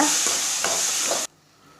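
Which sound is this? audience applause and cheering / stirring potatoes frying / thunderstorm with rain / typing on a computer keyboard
stirring potatoes frying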